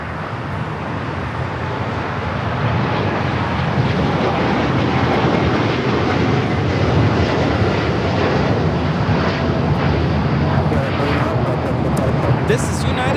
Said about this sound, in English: This is United Airlines Flight 39 taking off to Tokyo Haneda on the 787-10 Dreamliner.